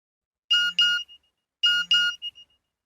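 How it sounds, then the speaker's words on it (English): A mobile phone gives two double-tone electronic beeps about a second apart, each a bright two-note chime with a short tail, clear and close with silence around them. "My mobile phone beeped."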